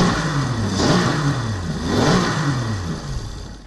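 A Duke Engines prototype engine, a multi-fuel, variable-compression design, revs up and down twice in smooth swells, its whirring tone rising and falling loudly with no voices.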